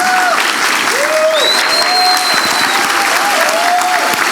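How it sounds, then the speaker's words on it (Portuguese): A Baptist church congregation claps warmly and continuously in a reverberant sanctuary, the applause steady throughout while a few sustained organ or keyboard notes glide over it. "Olhe para essa igreja, para todo mundo poder aplaudir o senhor."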